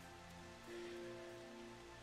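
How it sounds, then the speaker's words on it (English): Rain falling in the Final Fantasy XIV video game, a steady hiss of drops on surfaces holding at an even, fairly quiet level throughout, with a thunderstorm setting and no talk over it. "Wow, it's raining."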